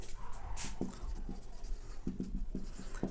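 Chalk or a marker taps and scratches across a board while a matrix is written out, in short irregular strokes over a light background hum.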